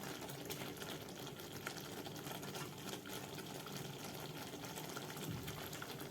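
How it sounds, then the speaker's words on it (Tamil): Ghee pours into simmering jackfruit payasam (sakka pradhaman) in a pot, giving a steady, faint liquid trickle and low bubbling that runs continuously for several seconds. "இந்த நேரத்தில் நான் இன்னும் கொஞ்சம் நெய் ஊற்றிக்கிறேன்."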